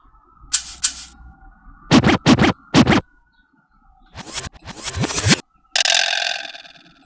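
Turntable-style scratch samples loaded in an Ableton drum rack fire in short, sharp bursts, quick back-and-forth whips with silent gaps between them, ending on one longer smeared scratch.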